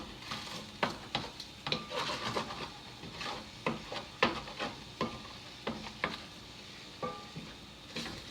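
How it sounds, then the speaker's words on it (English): Food being stirred around a hot pan with a steady sizzle underneath and repeated scraping strokes at an irregular rhythm, close and moderately loud, with no talking. "looks like this is finally starting to cook a little bit here, so we're going to start mixing this around"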